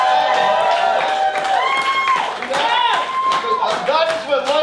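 Comedy club crowd cheering and whooping loudly at a comic show, a continuous dense roar of voices with scattered claps and shouts throughout.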